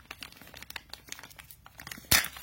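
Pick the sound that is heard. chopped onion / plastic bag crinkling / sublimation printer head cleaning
plastic bag crinkling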